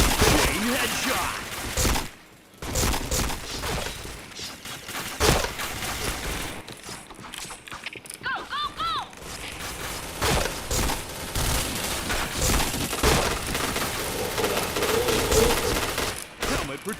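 An APC weapon in a shooting video game fires in rapid bursts of gunfire, loud and dense, with brief pauses and a short break partway through.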